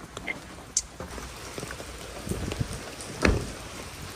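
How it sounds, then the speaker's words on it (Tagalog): Rain falling during a storm in the Philippines, a steady soft hiss of drops with occasional louder splashes and taps, fairly faint throughout. "At bumabagyo, umuulan."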